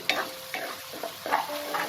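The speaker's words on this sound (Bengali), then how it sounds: "কড়াইতে নাড়াচাড়া করব যাতে কাঁচা গন্ধটা না থাকে" Ginger, garlic and green chilli paste frying in a kadai while being stirred, with a quiet sizzle broken by several distinct spatula scrapes against the pan.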